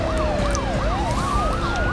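A police siren in the video game Enter The Matrix wails in fast, rising and falling sweeps. It sounds loud and close, with no talking over it.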